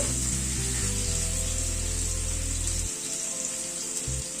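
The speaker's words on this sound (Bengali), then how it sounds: "এবার গরম জল অ্যাড করে দিচ্ছি।" Hot water is poured into papaya curry in a pan, making a loud steady rushing hiss with sizzling that cuts off after about three seconds, followed by a short fainter burst.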